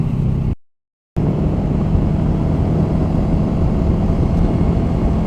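Kawasaki Ninja 650R (ER-6f, 2013) motorcycle heard while riding, a loud, steady engine drone mixed with wind rush, briefly cut off near the start before resuming, with no talking.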